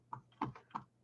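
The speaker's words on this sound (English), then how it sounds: "Let's type it in and be done with it." A few quiet computer keyboard keystrokes, three distinct taps spaced across about a second, with no voices.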